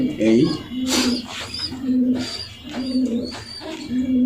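Red checker racing pigeon cooing in a close, loud, repeated rhythm of throaty low coos about every half second, with someone talking at the same time.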